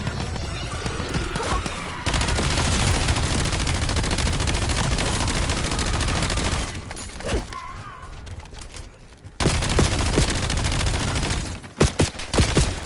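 Gunfire in a Black Ops 7 shooter game, with loud sustained bursts of automatic fire, brief pauses, then sharp single cracks and shots near the end, mostly dense and close.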